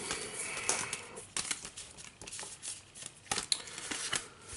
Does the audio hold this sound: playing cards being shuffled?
yes